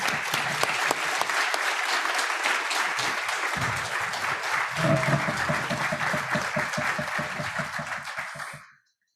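Audience applause welcoming a lecturer at a memorial lecture, sustained dense clapping from a hall crowd that stays steady and then cuts off abruptly at the end.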